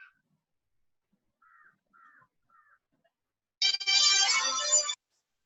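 A phone placing an outgoing call gives a few faint short ringback tones, followed by a louder burst of a ringtone lasting over a second, in an otherwise quiet room.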